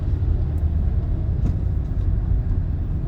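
A car engine rumbles steadily and loud from inside the cabin while the driver moves into second gear on a main road, with low drone throughout and faint road noise.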